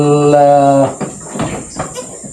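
A goat on a small farm lets out one loud, drawn-out bleat, followed by quieter rustling and scattered farmyard sounds.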